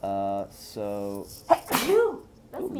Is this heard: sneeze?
yes